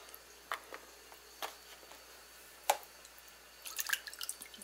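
Soaked plums pitted by hand: faint, scattered wet squishes and small drips as the soft fruit is pulled apart, with a short cluster of slippery squelches toward the end, close-up over a quiet room.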